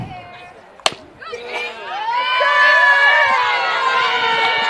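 Restless crowd at a high school softball game, a sharp crack followed by rising shouts, whistles and cheering voices that swell and hold loudly near the stands.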